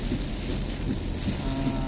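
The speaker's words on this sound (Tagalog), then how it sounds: "Ganito na kalakas yung hangin niya at saka yung yung ulan" Strong, steady typhoon wind roars and buffets continuously, with gusty low rumbling throughout and no voices.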